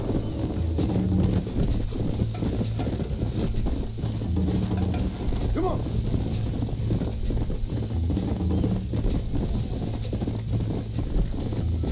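Steady clip-clop of horse hooves at a trot in a video game, continuous and fairly loud, with a brief spoken urging over the rhythm.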